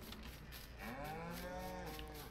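Cows in the Farming Simulator 19 video game, a single drawn-out low moo with a rising and falling pitch, heard close and clear over faint background noise.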